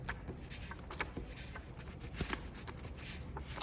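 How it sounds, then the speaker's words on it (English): Cards from a deck shuffled and drawn for a tabletop card game: a steady papery rustle and flutter with soft slaps, close by, with no talk. "place our deck somewhere face down and draw the top 5 cards"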